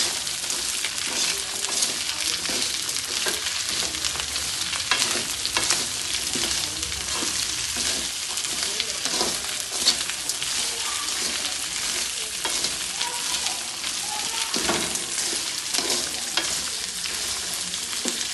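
Garlic cloves for garlic pickle frying in a pan with rock salt, a steady dense sizzle and crackle running unbroken at close range, with occasional stirring scrapes and no talking.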